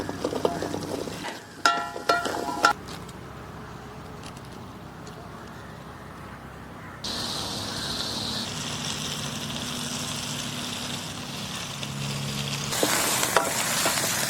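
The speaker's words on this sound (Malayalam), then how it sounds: "ഇനി നമുക്കിനി ചെറിയ ഉള്ളി ഇട്ട് കൊടുക്കാം." Small onions frying in a pan with ginger, green chili and curry leaves, a soft, fairly faint sizzle with scattered stirring clatter and shifting intensity.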